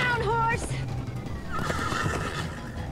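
Horses neigh and whinny in Minecraft Story Mode, a loud rising-and-falling whinny in the first half-second, then a second softer call over game music and background chatter.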